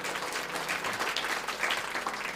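A church congregation at a sermon gives warm, dense applause, steady and continuous at moderate distance with no talk over it.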